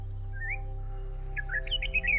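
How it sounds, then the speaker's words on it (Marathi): A yellow-browed bulbul calls at a forest waterhole in Kolhapur, giving a brief rising whistle and then a quick run of bright chirps over a steady low background. "yellow broad Bulbul"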